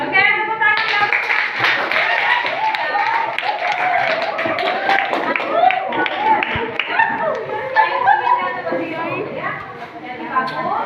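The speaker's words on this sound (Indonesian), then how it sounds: "oke, tepuk tangan." Classroom applause at the end of a student presentation, a steady clatter of many hands clapping for several seconds with children's voices and chatter mixed in throughout.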